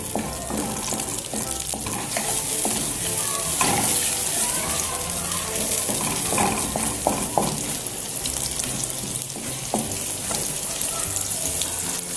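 Steady crackling sizzle of onions softening in a pan for bharwa bhindi, with occasional stirring clinks and scrapes, close and continuous throughout.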